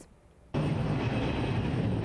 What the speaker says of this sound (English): As planes took flight at Reagan National Friday